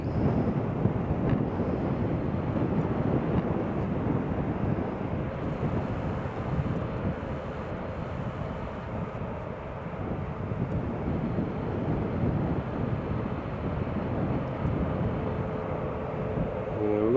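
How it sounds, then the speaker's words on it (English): A Boeing 737 MAX airliner takes off from Newcastle International Airport, delayed over two hours, a broad steady roar of jet engines rumbling continuously with a wind-like wash, loud and sustained throughout with no talking. "And there's Carl Johnston off and away. Flying a 737 MAX, flight FR4080 to Alicante."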